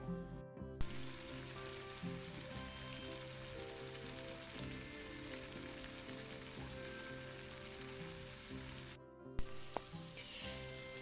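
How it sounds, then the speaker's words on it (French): Vegetables simmering in a pan as their juice reduces, giving a steady soft sizzle and bubbling throughout, close and even, with a couple of brief breaks and small clicks. "on va laisser cuire comme ça afin que le jus puisse s'évaporer tranquillement"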